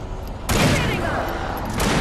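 Loud, dense bursts of gunfire fill the air in Alan Wake, starting abruptly and continuing as a sustained barrage with a brief break near the end.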